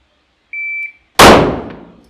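A shot timer gives one clean, high electronic beep lasting about a third of a second, then a brief pause before a single loud, sharp gunshot from a pistol on a shooting range, its blast decaying over nearly a second.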